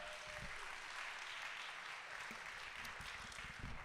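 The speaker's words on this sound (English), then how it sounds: "Applaud the poet, not the score." Audience applause at a poetry slam, a steady faint wash of clapping heard from a distance and lasting the whole few seconds, with no voices standing out.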